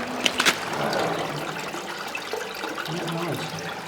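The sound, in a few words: fresh mountain water running in a WWII fortress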